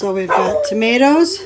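A dog barks and whines in a home kitchen during tomato canning, with yipping, rising cries mixed in over a person talking nearby.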